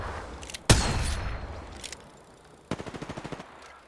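Apex Legends gunfire comes first as a single loud, sharp shot with a long echoing tail. A faint pop follows, then a rapid burst of automatic fire, roughly nine evenly spaced shots at mid distance.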